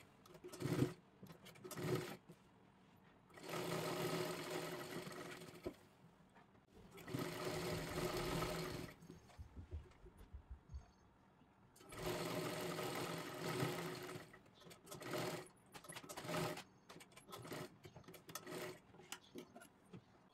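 Sewing machine stitching a kurti runs in several separate bursts of a few seconds each, with short pauses between, fairly quiet and close, with no talking.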